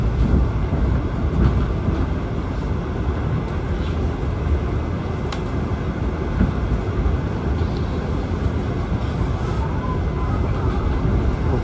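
A loud, continuous rumble of the Bangunkarta passenger train arriving at Pasar Senen station, with steady rolling wheel noise and faint clatter, droning on without pause.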